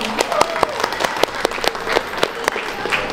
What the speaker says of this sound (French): Alors je vais vous demander de les applaudir encore une fois.